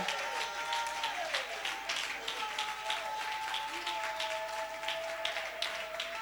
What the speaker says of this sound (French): Acclamons pour tous les enseignants qui ont enseigné jusqu'à aujourd'hui